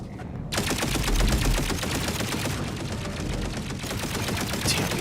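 Hacked automated turrets in The Outer Worlds fire in sustained rapid bursts, a dense, loud stream of gunfire that continues almost unbroken from the first half-second to the end.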